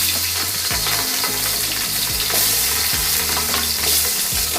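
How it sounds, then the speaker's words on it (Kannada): Green chillies frying in hot oil in a mutton masala pan, a steady loud sizzle with crackling pops and scraping stirs, no voices. "ಸ್ವಲ್ಪ ಎಣ್ಣೆ ಹಾಕ್ಕೊತಾ ಇದ್ದೀನಿ. ರೆಡಿ ಮಾಡಿಟ್ಟ ಹಸಿಮೆಣಸನ್ನು ಹಾಕ್ತಾ ಇದ್ದೀನಿ."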